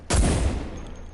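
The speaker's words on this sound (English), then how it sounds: "Nope, I'm shooting now." A sharp gunshot burst in a trench-combat video game, with a loud broadband crack at onset that decays into a rumbling tail lasting about a second, heard alone.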